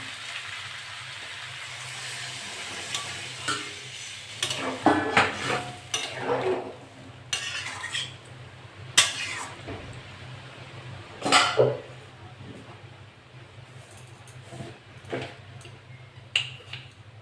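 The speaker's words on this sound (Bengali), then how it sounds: "এটা নেড়ে চেড়ে নেব।" A spoon stirs prawn curry with pumpkin stems, potato, eggplant and pointed gourd in a pan, making scattered scraping clinks and clatters over a steady simmering sizzle, with no talk.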